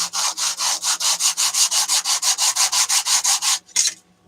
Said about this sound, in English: I'm just trying to get some of this flashing off, and I thought this piece of sandpaper might be an ideal way to do it